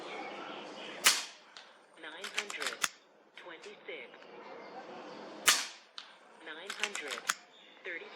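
An FX Impact M3 air rifle fires .25 unsorted pellets outdoors in high wind at an 87-yard target, two sharp cracks several seconds apart, with people talking in between.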